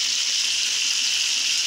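A steak sizzles loudly in a pan as water is dripped onto it, a continuous bright hiss with no pause or voice over it.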